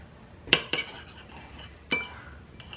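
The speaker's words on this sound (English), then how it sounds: "So just mix this up real good until it's a nice consistency." A spoon or whisk clinks sharply against a bowl while fish jerky marinade with honey and sesame oil is being mixed: three crisp knocks, one of them doubled, over a quiet background.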